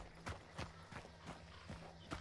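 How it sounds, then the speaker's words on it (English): Footsteps in a video game thud in a steady rhythm, about one every third of a second, fairly faint over a low hum. "You hear footsteps?"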